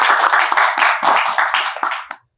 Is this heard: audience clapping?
yes